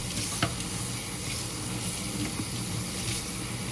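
Running water rinses shampoo out of hair, a steady close broadband hiss and splatter that continues evenly without talk.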